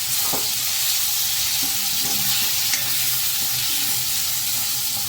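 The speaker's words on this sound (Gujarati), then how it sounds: "હવે મસાલામાં એક ટમેટું સુધારીને રાખેલું છે તે નાખી દેશું" Chopped tomato sizzling in hot masala while cooking khari bhat, a steady loud frying hiss that stays close and constant throughout, with no talking.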